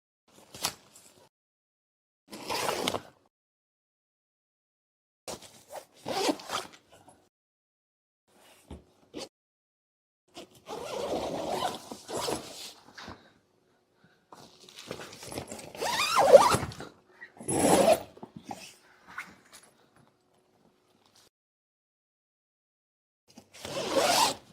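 The side walls of a Themis hard-shell roof tent are unzipped, giving close, loud zipper runs in bursts of varying length separated by silent gaps, some short and sharp, others long and drawn out.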